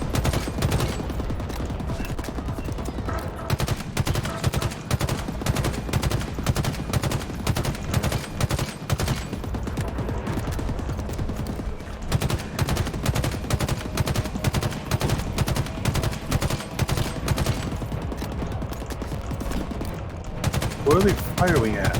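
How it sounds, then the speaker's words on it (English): Enemy gunfire in Halo Infinite, rapid automatic bursts rattling steadily and loudly for over twenty seconds with only brief pauses, and no voices. "What are they firing at? There's no one here. Wasting ammo."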